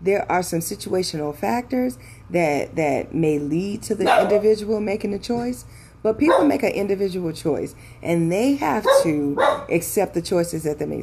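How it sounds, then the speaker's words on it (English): Dog barking at home in short, repeated bursts under steady close speech from someone talking throughout. "So I apologize for the barking"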